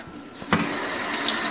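Tap water runs steadily into a pot of uncooked rice in a home kitchen, a continuous close splashing hiss after a brief clunk of the faucet, with no talking.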